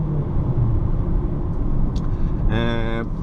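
Interior road noise from a 2018 Honda HR-V EXL SUV taking a curve: a steady low tyre and engine rumble throughout, with a brief harmonic tone near the end, under someone talking.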